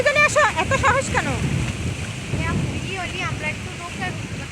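Rough river waves churned by a stormy wind, with gusty wind noise and water rushing steadily throughout, while people's voices talk over it.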